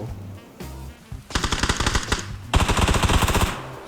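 PUBG gunfire: after a few scattered shots, two long bursts of rapid automatic fire ring out loud and close, with a short gap between them.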